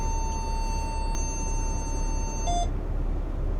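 Inside an MCI J4500 bus, a sustained electronic tone sounds over a low cabin rumble, then stops and is followed by a short burst of brighter beeps.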